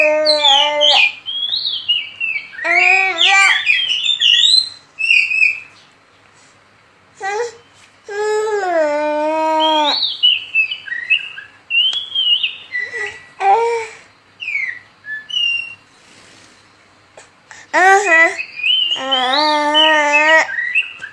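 Small birds chirp, whistle and call in loud, close bursts with short pauses, with faint voices in the background.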